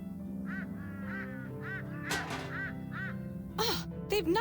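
In the point-and-click game Shardlight, birds honk and quack in a repeating, moderately close series. A clatter near the end suggests a wastebasket being knocked over.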